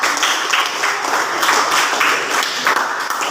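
Students in a classroom applaud a presenting group with steady, dense clapping that fills the whole stretch at a fairly loud, even level.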